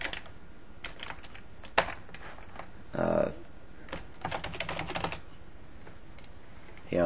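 Typing on a computer keyboard while setting up a standalone server, a quick run of clicking keystrokes near the mic with a louder clatter midway and faint background noise.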